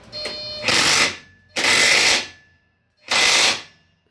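Three loud bursts of a ratchet tightening a shock bolt on a 2000 Chevy Suburban 5.3 4WD, each lasting about a second, close and harsh, with short gaps between them and no talk.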